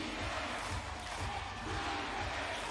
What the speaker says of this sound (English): And now you hear the Tokyo crowd here at the Yoyogi Coliseum trying to rally behind their team